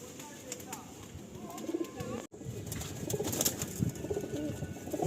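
Pigeons in a breeder's loft cooing in soft, repeated low calls, with a brief break midway and a person talking in the background throughout.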